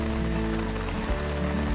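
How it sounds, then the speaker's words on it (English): Rain patters on a camping canopy in a short, dense hiss of drops, steady and close with no talking. "The rain came back."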